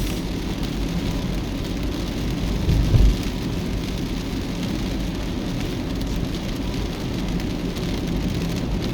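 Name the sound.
heavy rain while driving, with thunder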